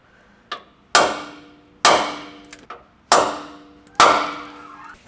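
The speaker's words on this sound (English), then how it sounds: "So I'm gonna go and put the center punch" A hammer drives a center punch into a Toyota 4Runner truck frame for rock slider installation, with four loud, close metallic strikes and a couple of lighter taps between them, each ringing briefly.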